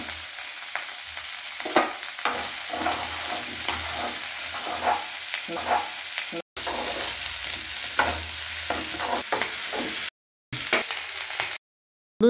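Tomatoes sautéing in oil in a pan for goat head curry, a steady close sizzle and frying hiss with occasional stirring scrapes, briefly cutting out near the end.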